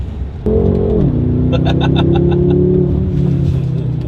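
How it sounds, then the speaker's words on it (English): A car engine drones loudly with a throaty intake sound, its pitch shifting as the revs change up close. "Really nice induction noise."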